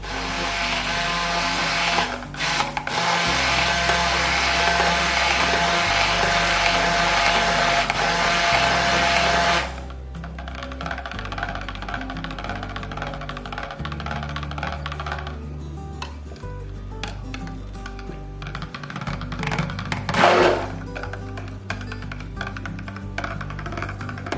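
A blender churns charcoal soap batter to emulsion, a steady loud motorized whir that cuts off partway, then resumes in shorter bursts with pauses between.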